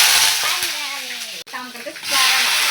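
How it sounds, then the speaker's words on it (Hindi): Cumin seeds sizzle in hot oil in a pan, a bright, steady hissing crackle that fades briefly mid-way and returns, with a voice speaking over it. "ऑयल हो गया है गर्म, अब इसमें थोड़ा सा डालेंगे हम जीरा"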